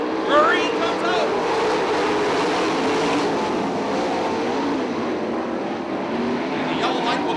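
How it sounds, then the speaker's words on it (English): A pack of 410 sprint cars races side by side out of turn four at Attica Raceway Park, their engines a broad, sustained roar from some distance that carries steadily throughout. "Here we go, side by side, wheel to wheel, bumper to bumper out of turn 4."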